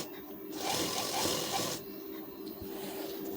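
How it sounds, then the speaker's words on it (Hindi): A sewing machine stitching a blouse, a brief burst of fast mechanical whirring lasting about a second, close and alone, then a quieter lull. "ऐसे सिलाई चला देंगे।"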